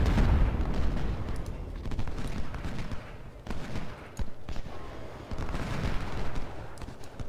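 Musket volleys from a battle in the video game Ultimate General: Civil War crackle and boom over a dense, rumbling din of distant gunfire. Sharper shots punctuate the steady roar throughout.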